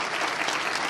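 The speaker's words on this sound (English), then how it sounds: "Another round of applause, please, for Dr. Perry." Audience applause following a keynote lecture, a dense steady clapping from a large crowd filling the whole moment without any voice over it.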